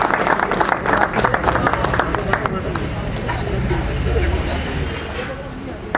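Many guests at a retirement party clap together in a sustained burst that slowly thins out, with speech mixed in beneath the applause.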